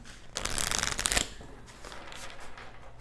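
Tarot cards are shuffled in a quick, loud riffling burst, followed by softer sliding and handling as a card is drawn from the deck.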